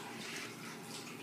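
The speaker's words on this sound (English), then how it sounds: "gradually pour hot water, 170 degree water, over the grain" Hot water at 170 degrees poured gradually through a drilled cake-pan sparging pan over mashed grain for all-grain home brewing, a steady soft splashing trickle, faint and continuous.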